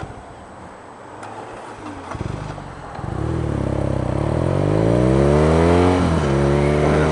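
The starter of a 2016 BMW R nineT motorcycle cranks sluggishly against high compression for a few seconds before the engine catches, then revs up loudly and climbs in pitch, close and alone.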